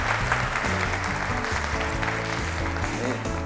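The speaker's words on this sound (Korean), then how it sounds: "좀 큰 박수로 좀 이렇게." Audience applause in a university lecture hall during a CEO special talk, steady clapping from a large crowd filling the whole clip with faint murmurs underneath.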